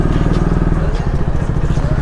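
A motorcycle's engine idles close by as it is parked near a city centre in Agartala, a loud, steady, throbbing putter with light clatter.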